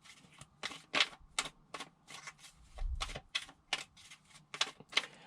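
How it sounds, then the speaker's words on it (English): Tarot cards being shuffled by hand up close, a rapid series of about a dozen crisp papery riffles and taps in an even rhythm, with a brief low thump partway through. "one more shuffle"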